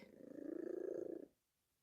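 A cat purrs loudly and close, with a rapid rhythmic rumble that pulses steadily for about a second before stopping abruptly into silence.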